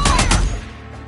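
Enemy gunfire in the Days Gone video game: a loud, close burst of several rapid shots in quick succession, then a fading echo and tail.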